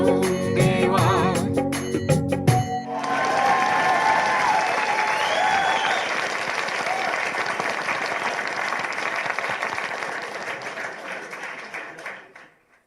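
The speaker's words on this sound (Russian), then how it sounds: "записал наши эти аплодисменты" Audience applause at a spiritual gathering, breaking in after music fades, then a sustained full round of clapping that slowly thins and stops abruptly near the end.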